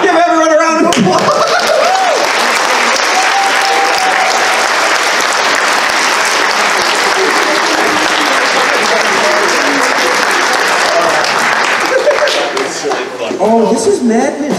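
Loud, sustained applause from a convention crowd at a charity event, continuous dense clapping with some cheering and laughter, with voices briefly audible at the start and end.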